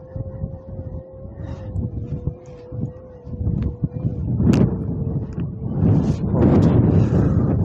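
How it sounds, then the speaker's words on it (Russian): Strong wind buffets the microphone outdoors near a church, a steady roar with a faint tone underneath that builds into heavier gusts toward the end. "Да, очень сильный ветер"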